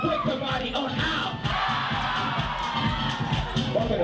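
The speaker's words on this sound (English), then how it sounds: "Give them a round of applause, everybody." A crowd at a ballroom kiki ball cheers, whoops and yells continuously, a loud, dense roar of many voices with clapping mixed in and no lulls.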